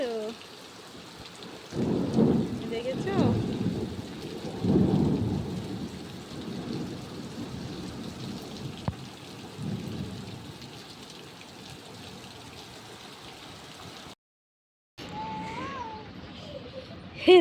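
Thunder rumbles in deep, heavy rolls over steady rain and wind above a waterlogged street. Several strong peals come early, a weaker one follows later, and a voice speaks briefly near the end.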